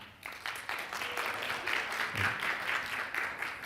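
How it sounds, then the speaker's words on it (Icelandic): A crowd at a startup masterclass gives a round of applause to a tech co-founder, a continuous wash of many hands clapping at moderate volume throughout. "Gefum honum gott klapp"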